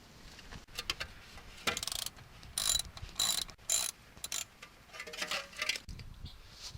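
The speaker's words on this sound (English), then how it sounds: "I'll start by removing the dust shield." A dust shield being removed from a Ford Ranger RWD wheel spindle, with a series of short metallic clicks, ratcheting and scraping bursts, close and fairly quiet with pauses between them.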